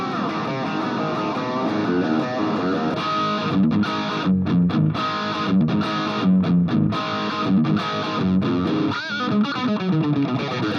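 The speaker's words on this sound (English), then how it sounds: "Let's check out some overdrive tones" Electric guitar overdrive tones through a small portable guitar amp, heard as a loud, continuous, distorted riff with chunky palm-muted chugs and ringing chords. The amp sounds dry with no reverb, and no one speaks.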